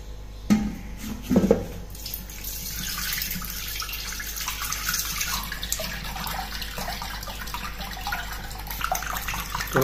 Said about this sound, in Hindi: अब इस लस्सी को छान लेना है